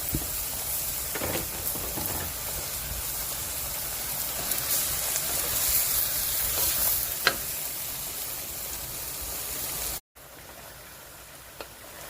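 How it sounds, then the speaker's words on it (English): Shrimp, scallops and mixed vegetables stir-frying in a pan, a steady hissing sizzle with occasional stirring scrapes that drops to a quieter hiss near the end after a brief cut. "Go ahead and add back your shrimp and scallop."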